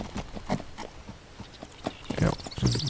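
Horse hooves clip-clop in the Die Pferdebande video game as a group of horses is ridden, giving irregular close clops with a livelier burst of hoof sounds toward the end.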